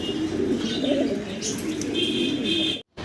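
Soft, low pigeon cooing rolls on steadily with faint chirps above, close by, then breaks off in a brief silence near the end.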